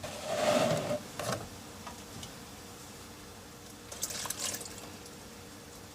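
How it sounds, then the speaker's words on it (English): Half a cup of milk poured into a bowl for a chocolate mud pie, a short close splashing pour at the start, followed by quieter liquid trickles and a faint second splash later. "you're going to add 1/2 of a cup of milk."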